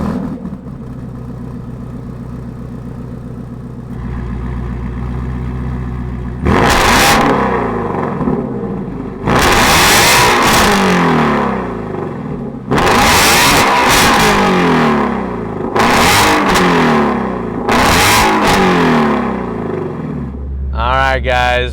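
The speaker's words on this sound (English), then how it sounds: "Let's fire up this voodoo GT350" A 2019 Ford Shelby GT350 with the Voodoo flat-plane V8 cranks over and fires up, then loud repeated revs bark out in several sharp bursts between settling idles, close and unaccompanied by talk.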